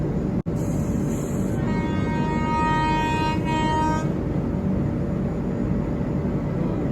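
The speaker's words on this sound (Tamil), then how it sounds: "இங்கே க்ரீன் சிக்னல் இருக்குது, பின்னாடி ஏதோ ட்ரெயின் வருது." A train running on the rails at close range gives a steady, loud rumble throughout, with a long high tonal horn-like whine sounding through the middle, and no talk.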